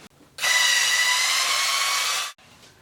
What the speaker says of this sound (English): now go ahead and take out the lower outer screws on your A-arms